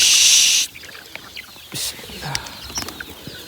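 Chickens and young chicks on an open farm, scattered soft clucks and chirps heard close over a noisy outdoor background after a loud burst of hiss at the start.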